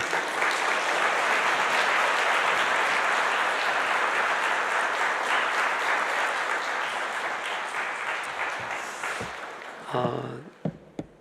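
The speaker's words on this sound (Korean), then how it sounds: "이제 목사님 나오시겠는데 힘찬 박수로 모시겠습니다" Sustained applause from a church congregation welcoming the pastor to the front during a Sunday worship service, a dense, steady wash of clapping that fades out near the end.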